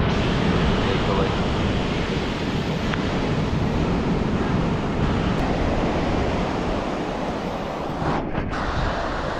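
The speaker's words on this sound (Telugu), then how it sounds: "సో హెవీ అలలు వస్తున్నాయి ఇక్కడ" Heavy sea waves at Chandrabhaga beach near Puri, Odisha, a loud continuous roar of surf mixed with wind buffeting the microphone, steady throughout with a brief dip near the end.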